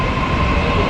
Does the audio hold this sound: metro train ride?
yes